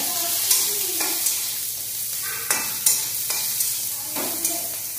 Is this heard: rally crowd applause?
no